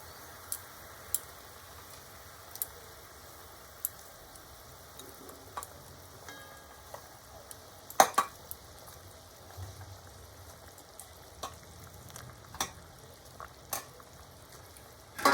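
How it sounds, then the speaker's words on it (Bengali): Parshe fish being stirred into boiling mustard kasundi gravy in a pan, with faint, scattered clinks and scrapes of a utensil over a quiet, low simmer. "মাছগুলোকে দিয়ে আমি খুব ভালোভাবে একটু নেড়ে নেড়ে এই ঝোলের সঙ্গে মিশিয়ে দিলাম"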